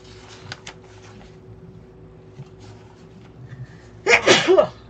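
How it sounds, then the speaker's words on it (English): A single loud, close sneeze bursts out near the end after a few seconds of faint room shuffling and light handling noises in a quilting workspace. "Why am I sneezing so much?"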